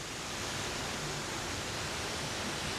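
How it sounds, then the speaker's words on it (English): A big fountain cascade at Parque das Nações, Lisbon, pours and sprays in an unbroken, loud hiss of rushing water, heard up close and steady for the whole stretch. "I still don't know if the microphone will pick me up over the noise of the water."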